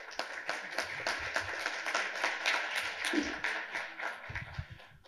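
Audience at a copyright law public hearing applauds to welcome a speaker, a moderate round of clapping with distinct individual claps, fairly soft and close.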